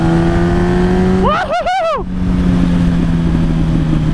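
A 2006 unrestricted sport motorcycle on a test ride roars steadily, then revs hard through a quick rising-and-falling sweep before settling back to a loud, close engine drone.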